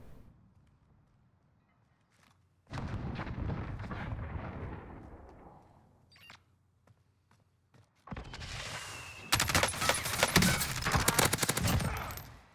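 Bursts of gunfire in the Warzone Mini Royale battle royale game, with shots coming from the top of a tall red building. Two separated volleys of close, loud firing alternate with quiet gaps, and the second burst is denser and sharper.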